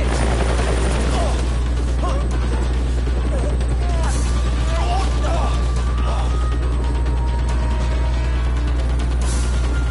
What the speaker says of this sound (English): About time the military started taking care of the foreign helicopter over a restricted area.